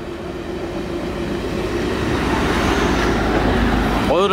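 Danish IC3 Intercity diesel train passing through Aalborg station, a steady rumbling roar that builds gradually and stays loud, with a brief squeal near the end.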